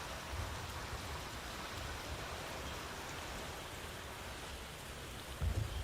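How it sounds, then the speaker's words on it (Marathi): Heavy early-morning monsoon rain pours down amid flooding in Shevgaon taluka, Maharashtra. It makes a constant broadband roar of rain on surfaces, with a couple of dull low thumps near the end and no talking. "पहाटेपासून जोरदार पाऊस पडत असल्यानं जिकडे तिकडे पाणीच पाणी बघायला मिळतंय"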